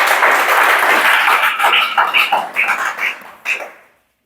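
A classroom audience breaks into loud, fast clapping that thins into a few scattered claps and fades out, with no voices.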